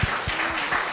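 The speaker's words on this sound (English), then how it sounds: "Big round of applause." Brief burst of audience applause at a media festival panel, dense broadband clapping with a low thump at the start and a faint tonal hum beneath, fairly close and steady for about a second.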